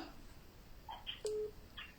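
Telephone keypad dialing tones sound as a few short separate beeps, moderately clear over a quiet hiss, with one slightly longer tone in the middle.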